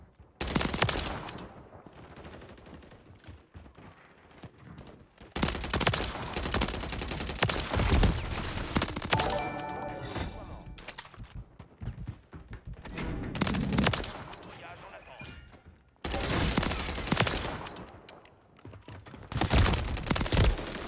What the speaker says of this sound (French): Vous avez vu le nombre de balles que je lui mets à lui?